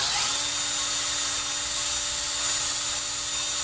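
A power drill spins sandpaper continuously while cleaning an antique hand crank grinder, with a high, steady whine and buzzing scrape, close and constant for the whole stretch.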